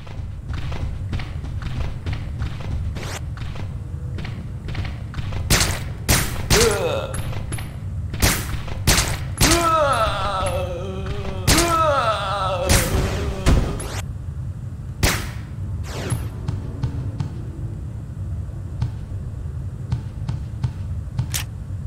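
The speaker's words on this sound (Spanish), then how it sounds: "escuchan más perrones los disparos" Gunfire in the survival-horror video game Resident Evil Dead Aim: a series of sharp, loud shots at irregular intervals, some in quick bursts, over a steady low game ambience with brief growling sounds in between.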